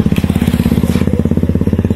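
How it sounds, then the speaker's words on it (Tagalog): A motorcycle passes close by on a road, its engine a loud, rapid, even pulsing throb that continues steadily for the whole stretch. "May naglabay na naman ng motor."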